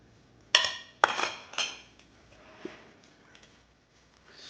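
Baking soda and salt are stirred into flour in a bowl for banana bread, with three sharp clinks of a utensil against the bowl in quick succession followed by softer, fainter scraping taps.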